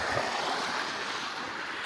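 Water rushes steadily through an irrigation channel on a farm with millet fields, a continuous close, broadband wash with no voices.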